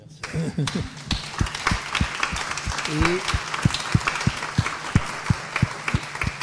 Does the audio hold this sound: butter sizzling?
no